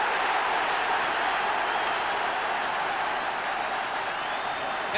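A Sunderland football crowd roars and applauds after a hat-trick goal, a loud, sustained wash of cheering and clapping that fills the whole stretch at a steady level.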